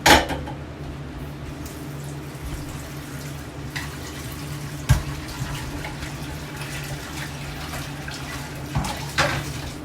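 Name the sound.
scrubbing out a pan with water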